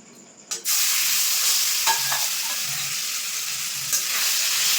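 Marinated chicken tipped into hot oil for a chicken pizza topping, an abrupt loud burst of sizzling that holds steady and close, with a couple of faint utensil clinks.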